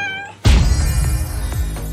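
One loud, close cat meow that rings out for over a second, with no talking around it.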